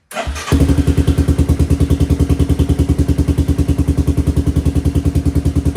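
A 1986 Suzuki Quadrunner LT250EF quad's engine cranks briefly on the starter, catches and settles into a loud, steady, rapid thumping idle, close up and alone.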